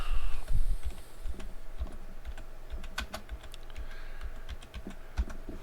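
Fast typing on a computer keyboard while searching for graphics cards, a close, steady patter of key clicks with occasional louder keystrokes and no talking.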